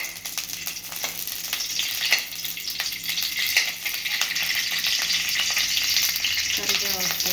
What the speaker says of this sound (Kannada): ಫಸ್ಟು ಮೆಣಸಿನ್ಕಾಯಿ ಹಾಕ್ತಾಯಿದ್ದೀನಿ, ಸ್ವಲ್ಪ ಫ್ರೈ ಮಾಡಬೇಕಿದ್ದೀನಿ